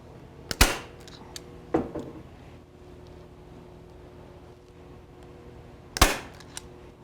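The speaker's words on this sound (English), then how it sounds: "I'll go ahead and staple this front edge down" A staple gun drives staples through moose hide into an antler mount form, giving three sharp, loud snapping shots spaced apart over a quiet background.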